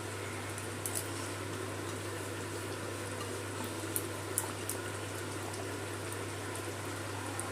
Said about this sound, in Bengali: গ্যাসটা বাড়িয়ে দিয়েছি, গ্রেভির সাথে মাছটা ফুটিয়ে নেব কিছুক্ষণ।